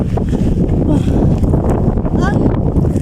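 Strong wind buffets the microphone on a walk at a nature park in Tanay, Rizal, making a loud, steady roar with faint talk in the background.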